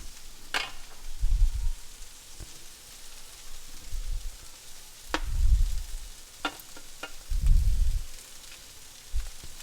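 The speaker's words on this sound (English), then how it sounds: "What I'm going to do is add the eggplant to it." Eggplant goes into a tomato base for bhagara baigan, giving soft stirring scrapes and intermittent low thuds in bursts, with faint sizzling beneath and brief sharp clicks from the spoon against the pan.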